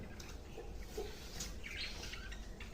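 Faint, scattered bird chirps sound indoors under low background hum, a few brief high tweets coming and going.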